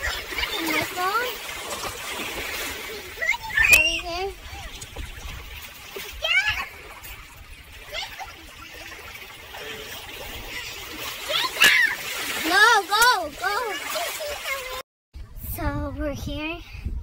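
Children splash and play in a river, with water splatters and bursts of high kids' voices shouting and calling over steady flowing-water noise throughout.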